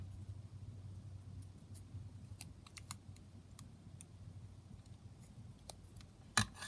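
Scissors snip paper cut from a book for a craft journal, a run of small quiet clicks and snips at close range with a sharper cut near the end, no speech over it.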